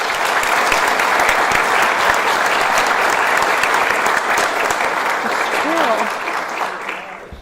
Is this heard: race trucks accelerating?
no